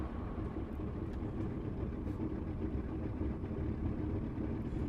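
A steady, low burbling drone of Handley Page Hampden bomber piston engines idling in Microsoft Flight Simulator, continuous and even throughout with no other sounds on top.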